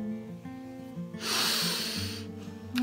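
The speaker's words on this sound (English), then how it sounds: "I know the sniffing's annoying" A person with congested sinuses sniffs once, loud and close, a sharp airy intake that stands out against low background hum and some faint voiced sound.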